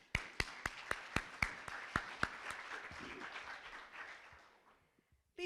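An audience at a city event applauds. Several distinct single claps ring out at first, then the applause thickens into a soft, fairly distant patter that fades away after about five seconds.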